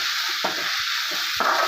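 Chopped onions and green chilies sizzle in oil in a pan over moderate flame as an egg roast is cooked, with a steady hiss broken by a few stirring scrapes.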